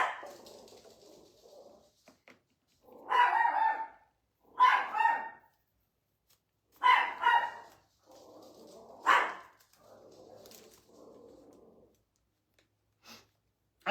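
A dog barks in four or five separate bursts spaced a couple of seconds apart, fairly close and clear against a quiet indoor background, with soft breathy sounds between barks.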